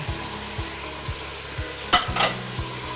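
Onions and capsicum sautéing in a pan, with a steady sizzle under repeated scrapes of a spoon against the metal and a couple of sharper clatters near the end.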